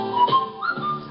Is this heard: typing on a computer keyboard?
no